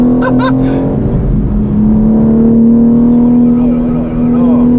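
A 2022 supercar's engine heard from inside the cabin while driving on a wet road, a loud steady droning tone with a brief rev change, a voice speaking briefly at the start.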